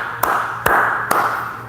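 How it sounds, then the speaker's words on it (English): Three sharp, evenly spaced claps ring out over a steady background hum, each a single crisp hand strike a little under half a second apart. "That deserves a clap"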